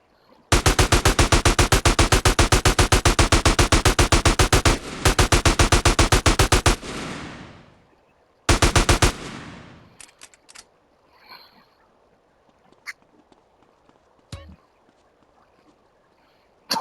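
A big gun in GTA San Andreas Definitive Edition fires long, rapid, evenly spaced automatic bursts during a final enemy wave, loud and close, then stops abruptly and leaves scattered faint clatters and small noises.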